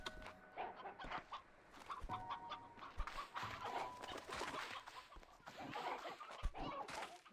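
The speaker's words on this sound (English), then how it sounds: "there's a lot of chickens." Chickens in the Slime Rancher 2 video game cluck and squawk in a busy, overlapping flock, with sharp bursts and short calls repeating steadily throughout, fairly close and loud.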